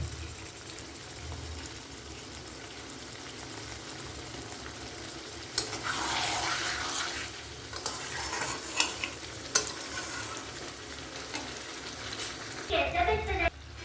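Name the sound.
water being poured into chicken kosha in a pan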